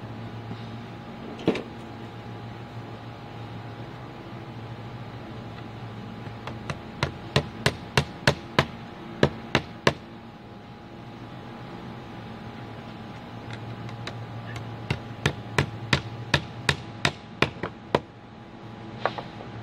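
Nails are hammered into fence posts to hang hangers for an RV sewer hookup: a lone strike, then two bursts of sharp, close, ringing blows in quick rhythmic runs over a steady low hum.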